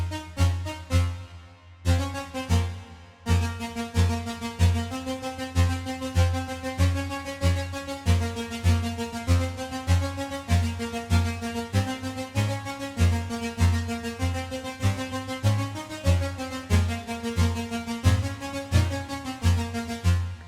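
Staccato strings patch from Falcon 3's harmonic resonator oscillator, short bowed-sounding notes pulsing in a steady driving rhythm over a low repeating line, with a brief pause near the start.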